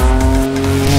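Renault Twin'Run, a light car with a 3.5-litre V6 of nearly 350 horsepower, driving hard with tires squealing; a loud, steady engine drone with tire squeal runs through the whole second, with no talk.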